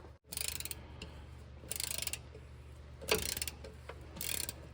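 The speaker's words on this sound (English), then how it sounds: "we've got two 13mm bolts that hold this starter on. And we've already got rid of all of the electrical. So let's take these bolts out." A ratchet working 13mm starter bolts under a Chevy truck, with four short bursts of rapid clicking separated by pauses, close and fairly quiet with no talking.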